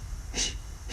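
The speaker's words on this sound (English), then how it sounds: "So this breathing is like blowing out a candle." A single forceful exhale through the mouth during yoga candle breathing, a short breathy whoosh close to the microphone, standing alone over quiet room tone.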